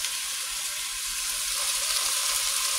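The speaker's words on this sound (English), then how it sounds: "I'm just going to drop some in. Like I said, about half of this. And we'll get a sear on it." Meat sizzling steadily as it sears in a hot pan, a dense, continuous hiss with no breaks or voices.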